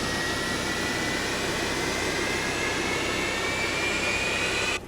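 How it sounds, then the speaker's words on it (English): A Pratt & Whitney jet engine on a Boeing 737-200 spools up in a flight simulator game, heard from outside the aircraft as a loud, steady roar with a thin whine slowly climbing in pitch, cut off abruptly at the end. "if you go outside the airplane, you can hear the engine start"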